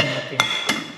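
A metal lid set onto a cooking pot on the stove, two quick clinks close by, the second softer, over a faint steady background hiss.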